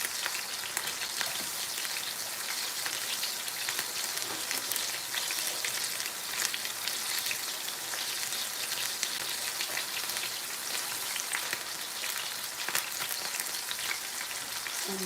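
Ten meat patties fry in a pan on a homestead stove, giving a steady, even crackling sizzle with fine popping throughout, close and moderately quiet with no voices.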